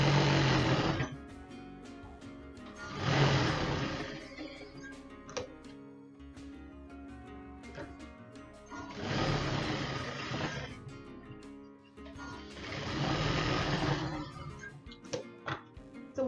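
A sewing machine stitches down the strap of a non-woven bag in four bursts of rapid, even whirring, separated by short quiet pauses with faint clicks and handling sounds.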